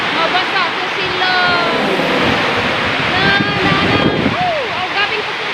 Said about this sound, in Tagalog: Grabe, ang uwan.